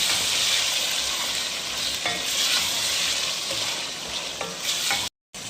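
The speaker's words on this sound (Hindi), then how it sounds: "अब हमने ये इसके अंदर ऐड कर देना और इसकी अच्छी से भुनाई करनी है तकरीबन 10 मिनट" Mutton pieces frying in a pan with masala for a black-pepper gosht gravy, sizzling steadily throughout, with a spoon stirring and scraping at intervals, then a brief drop to silence near the end.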